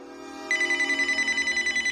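A mobile phone suddenly starts ringing indoors, giving a loud, close electronic ringtone that pulses in a fast regular rhythm over faint background music, with no speech.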